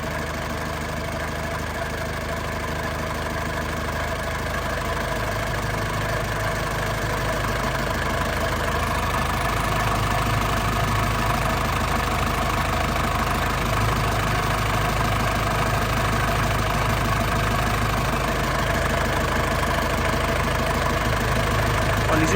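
A warmed-up 2002 Isuzu Panther LS engine idles steadily and smoothly, a continuous even hum with a faint diesel-like clatter, close and unbroken throughout with no voices.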